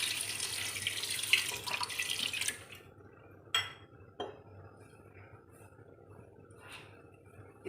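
A glass of water splashes into a pressure cooker holding marinated mutton for pulao, a steady pour for about two and a half seconds followed by a few light metallic clinks.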